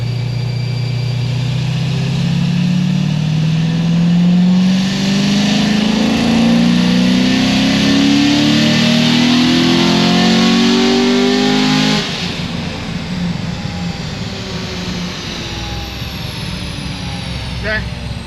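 A dropped-valve LS7 V8 revs on a dyno up to about 6,200 rpm, a loud, rising roar that climbs steadily for about twelve seconds, then cuts off abruptly to a low idle rumble.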